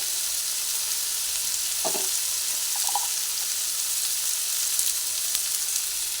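Papaya and potatoes fry in a pan with a steady, even hiss of oil, broken by a couple of brief clinks of stirring near the middle.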